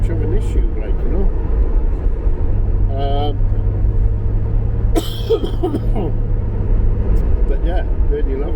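Steady low engine and tyre drone from inside a Reliant Scimitar car on the road, continuous throughout, with a brief cough and a few short vocal sounds over the rumble.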